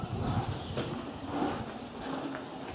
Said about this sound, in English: Chloe's riding her favorite horse, Maisie.